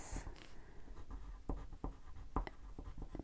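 Crayola Swirl crayon scratched across paper in quick swatch strokes, a faint dry rasping with short irregular scrapes, close and quiet without talk.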